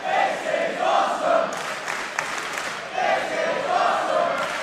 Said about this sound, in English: Talk all you like, and listen to this crowd.